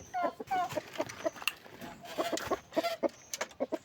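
Breeder chickens in cages, sick from extreme heat, cluck in short, uneven bursts close by, a string of sharp clucks with brief gaps between them.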